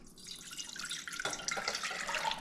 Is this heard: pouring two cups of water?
yes